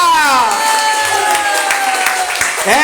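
A church congregation applauds, clapping mixed with cheering and crowd voices while a voice carries over the top, loud and steady throughout.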